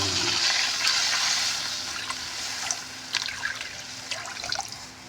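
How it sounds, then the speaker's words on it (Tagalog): Water splashes and trickles steadily into a cooking pot with tofu, loud at first and then easing into a lighter pour with occasional drips and clinks. "Lagyan natin ng tubig."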